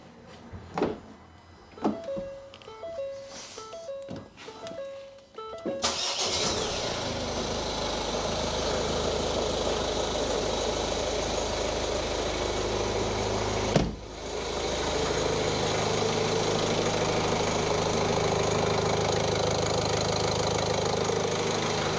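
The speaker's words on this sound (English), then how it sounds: "I'll fire the car up now. Hopefully it'll run." A few warning chimes sound before the diesel engine of a 2016 Ford Focus 1.5 TDCi cranks and starts after a fuel filter change, then settles into a steady, loud knocking idle, briefly dipping once midway.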